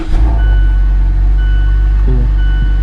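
A 2014-2021 Mazda 6 with a P011A coolant-temperature fault idles right after starting, a loud, steady low engine drone with a faint high tone running through it.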